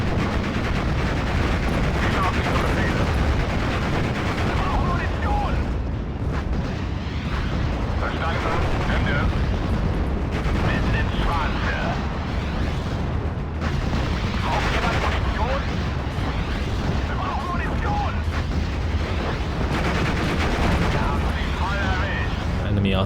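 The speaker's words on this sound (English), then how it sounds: "Enemy artillery coming in now." Enemy artillery fire pounds a World War II battlefield in the Steel Division: Normandy 44 video game, a continuous roar of shelling and gunfire throughout, loud and sustained, with speech mixed in.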